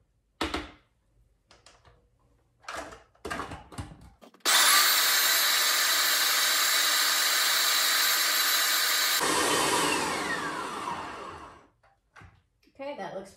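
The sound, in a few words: food processor blending hummus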